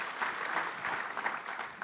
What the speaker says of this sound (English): please give them another round of applause for agreeing to do this